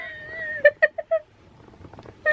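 A pet cat meows in a quick series of four short, close calls, then a pause with faint room noise and a last meow starting at the end.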